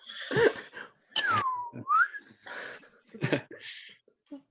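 Rising and falling glide like a slide whistle, likely a person whistling or imitating it by voice, one sweeping down-and-up tone between breathy bursts and short noises in a quiet room.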